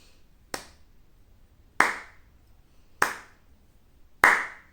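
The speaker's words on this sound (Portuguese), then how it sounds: "São muito lentas as nossas palmas" A group claps four slow, evenly spaced beats about a second apart during a rhythm exercise set to J.S. Bach, each clap crisp and fairly close, with no talking in between.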